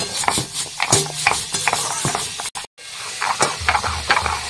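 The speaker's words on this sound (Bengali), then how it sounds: "এখন পোস্তটা বেটে নেব" Poppy seeds are ground into paste by hand on a stone in an outdoor kitchen with a clay stove, making a rhythmic rough scraping and rubbing, close and fairly loud, with a brief pause midway.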